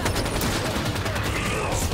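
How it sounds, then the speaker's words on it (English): Rapid gunfire in the video game Halo 5, a dense continuous barrage of shots at steady loudness with no pauses across the whole stretch. "Being shot at, and I don't like it."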